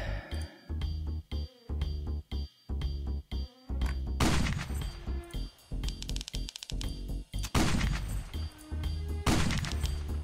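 Rapid bursts of video game gunfire rattle in choppy volleys, with loud crashing impacts and dense clattering effects in the second half.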